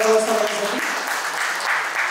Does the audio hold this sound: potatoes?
no